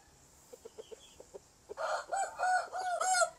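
Soft, evenly spaced clucks from Shamo chickens, then a loud Shamo rooster crows close by in a long, drawn-out call.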